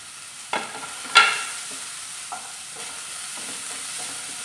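Grated coconut fries in oil with crushed ginger and garlic for a roasted beetroot curry, a faint, steady sizzle broken by a few sharp spoon scrapes and clinks against the pan.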